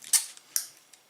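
A blade snips into a plastic bottle top in two sharp, close cuts with a faint third click, quiet and with no talk.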